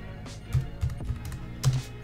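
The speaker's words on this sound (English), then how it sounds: "I'm gonna type in the IP address of the local Synology" Quick keystrokes on a computer keyboard while an IP address is entered: a few close, crisp clicks in small clusters over a faint room hum, with no talking.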